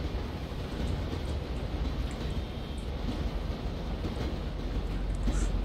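An in-game train in GTA 5 rumbles past at close range: a loud, steady, continuous roar with low clatter that holds evenly throughout, with no voices.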